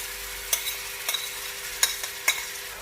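A steady hiss of finely chopped onions sizzling in hot oil for rajma masala, broken by a few sharp scraping stirs, fairly quiet with no voices.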